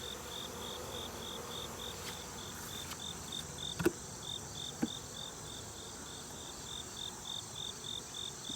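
Agitated honey bees buzz around weak beehives outdoors, a steady low hum that continues throughout under a bright, pulsing insect chirp, with a couple of brief knocks.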